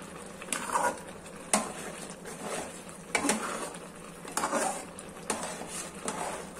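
A spoon stirs carrot halwa with chopped cashews and dry fruits in a pan, giving soft scraping, patting strokes in an irregular rhythm, close and fairly quiet.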